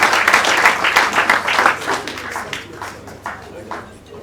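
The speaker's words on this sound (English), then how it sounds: "Please, as I call them, a lot of applause for them." At a distributors' conference, the audience claps for Olaniro and Sons, a brisk burst of applause that gradually thins into a few scattered claps.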